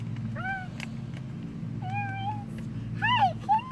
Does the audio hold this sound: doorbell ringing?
no